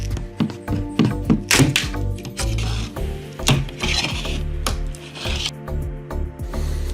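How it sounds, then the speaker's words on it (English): Wood creaks and knocks as trim is levered loose, with scattered thunks, scraping and rasping in an irregular run, close up. "First we're going to pry off the old one."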